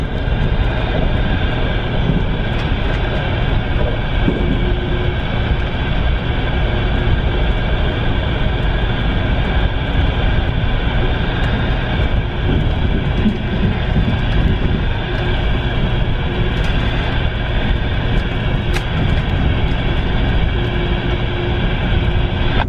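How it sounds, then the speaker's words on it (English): Amtrak California Zephyr passenger train heaving and swaying on its track, a steady, loud, continuous rumble and rattle of the car in motion throughout, with no talking. "Heaving and swaying of the train on this section of track."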